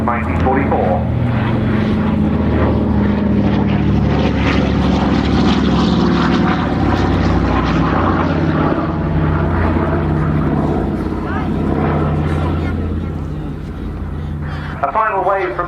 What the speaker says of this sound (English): the Dakota departing for other display commitments, including one at Duxford